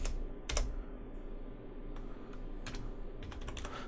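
Quick clicks of typing on a computer keyboard, heard close but fairly quiet over a low steady hum, with a few louder keystroke clusters.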